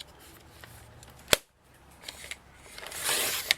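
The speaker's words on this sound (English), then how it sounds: "And then I'm just going to cut it at an angle." Scissors cutting paper at an angle for a junk journal corner pocket, with one sharp snip standing out, a brief pause, then quieter rustling and crisp paper handling close by.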